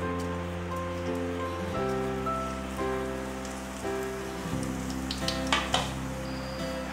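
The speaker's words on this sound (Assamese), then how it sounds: "কেৰাহীটো গৰম হোৱাৰ লগে লগে আমি প্ৰথমতে অলপমান তেল দিম, গৰমতকৈ অলপমান কমেই দিছোঁ। তাতে আমি গোটা জিৰাখিনি দি দিম," Whole cumin seeds sizzling in hot oil in a wok, a steady, close crackling fry with scattered sharper pops building toward the end, over a constant low hum.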